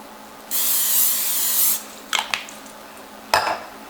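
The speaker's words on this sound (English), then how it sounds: "Spray my pan a little bit." A single sustained hiss of cooking spray lasts about a second, followed by a few short clinks and a brief scrape of a pan.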